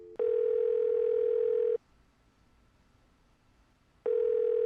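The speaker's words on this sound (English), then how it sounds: "Phone is ringing." A telephone ringing in the Nancy Drew game The White Wolf of Icicle Creek, one long electronic tone, then a pause of about two seconds before the next ring starts.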